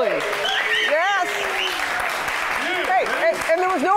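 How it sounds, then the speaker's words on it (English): Studio audience applauding and cheering loudly on a TV morning news show as a colleague is welcomed, steady dense clapping throughout with whoops and voices calling out over it. "there was no applause sign, David."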